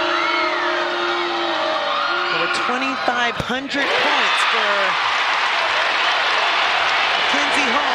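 Basketball arena crowd at an Indiana vs. Oklahoma NCAA women's tournament second-round game roaring and cheering for Mackenzie Holmes, a broad sustained swell that rises and holds loud under a commentator's voice.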